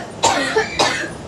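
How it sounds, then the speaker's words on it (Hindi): A woman who is unwell with a cold and headache coughs nearby in three quick, harsh bursts, each short and close, with brief gaps between them and no talk. "देखेंगे कि मुझे खांसी वगैरह हो रही है।"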